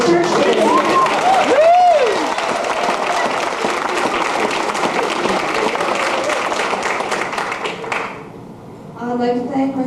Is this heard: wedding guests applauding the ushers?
yes